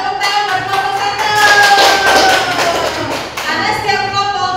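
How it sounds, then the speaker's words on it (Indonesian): A school class claps for a group of students, loud close applause with thumping hands that builds and then thins out, while voices and a tonal sound carry on beneath it. "Tepuk tangan buat kelompok 1."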